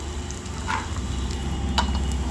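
Grated onion, garlic, chili, bay leaf and dried red chili fry in a pan with a soft, continuous sizzle. A couple of brief stirring scrapes cut in, and the whole sounds close and fairly quiet.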